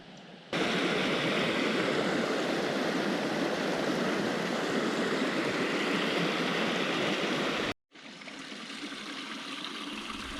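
A creek on Alabama public land flows in a steady, even wash of running water, close and continuous, broken by one brief dropout near the end.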